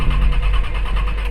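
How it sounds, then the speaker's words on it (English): A car engine cranks but fails to start, a steady loud churning with a low rumble and faint rhythmic pulsing throughout. "the engine sputtering but never catching"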